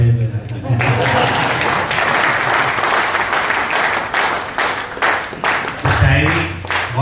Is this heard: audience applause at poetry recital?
yes